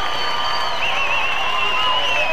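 A crowd cheers for bodybuilder Ade Rai at a Mr. Asia contest, a loud, sustained roar of shouts and whistles filling the hall.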